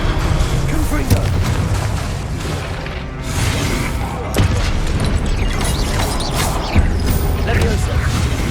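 A Confringo fire spell detonates in Hogwarts Legacy: loud, dense booms and crashing impacts over steady combat noise, with several sharp hits spread across the stretch and a voice mixed in.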